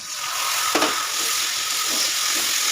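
Ground spice paste frying and being stirred in a pan for a Bengali rohu fish curry with potato and papaya, a steady loud sizzle and hiss with a brief clack of the spoon.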